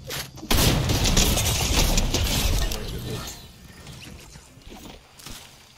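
Rapid, hard-hitting bursts from a drum gun in Fortnite, loud at first and then tapering off into quieter mechanical clatter, with no talking over it.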